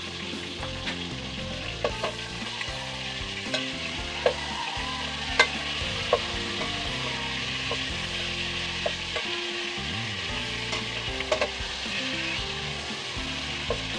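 Food sizzles steadily as it fries in oil in a cooking pot, with occasional sharp pops and stirring clicks over a constant close hiss; no voices.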